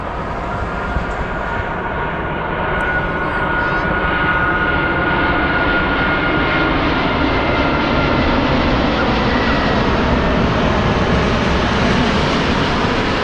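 Large airplane passing at Narita airport, a loud sustained engine roar that builds and holds with rising pitch as it goes over, heard from the ground close by.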